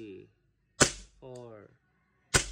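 Gas airsoft gun test-fired after repair for a full-auto fault and a leaking gas magazine: two sharp, loud cracking shots about 1.5 seconds apart, with brief speech-like sounds between them.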